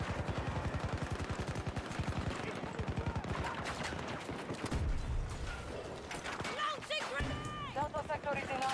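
Full-auto weapon fire in the Battlefield 2042 video game, a steady rapid stream of shots for several seconds followed by mechanical game effects, with a voice speaking over parts of it.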